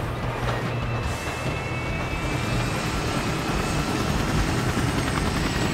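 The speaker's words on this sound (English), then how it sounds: "I'm in the chopper, coming your way." Helicopter flying in the video game Ghost Recon, a steady, loud rotor and engine drone filling the scene from start to finish with no voices.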